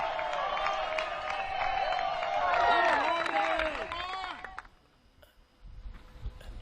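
Spectators at the final round of a disc golf tournament, the Des Moines Challenge, let out a swell of overlapping shouts and cheers that builds, then drops away, with commentators talking.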